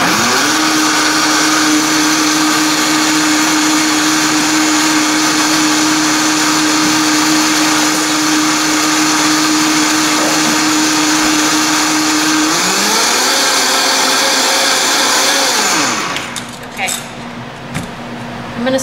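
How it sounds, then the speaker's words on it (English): A blender runs continuously at a steady loud whine, mincing garlic for ranch dressing, its pitch dipping and shifting near the end before the motor winds down and cuts off. "I'm going to let that run because I really want the garlic pieces to be minced. So let the blender do the work."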